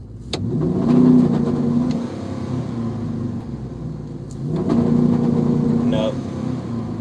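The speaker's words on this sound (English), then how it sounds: "Because the engine revs up." A car engine with an undiagnosed fault revs up twice in loud, swelling bursts a few seconds apart, settling to a rough idle between them, with a voice faintly in the background.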